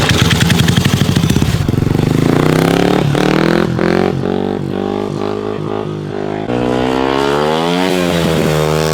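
A motorcycle drifts on a wet track, its engine revving loud and close in rising and falling surges as the throttle is worked, with a rough, buzzing, rapid-firing tone throughout.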